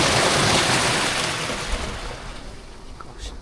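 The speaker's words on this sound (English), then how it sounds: "Gosh, a lot of water gushing down off the hills." Water rushes and gushes down steep hillsides beside a walking route, a steady broadband roar that is loudest at first and eases slightly, with no voices.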